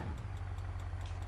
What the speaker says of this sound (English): We got rod knock.